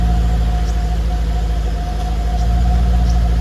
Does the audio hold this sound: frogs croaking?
no